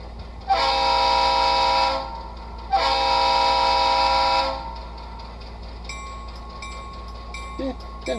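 A small iPhone 8 speaker plays an HO model locomotive sound file: two long, loud horn blasts with a steady diesel rumble beneath, followed by quieter bell-like tones and clanks.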